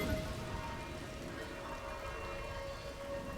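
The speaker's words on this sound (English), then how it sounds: "It is raining" Steady rain falls in a video game, a dense, even hiss of drops with a faint tonal hum underneath, continuous and moderately loud throughout with no voices.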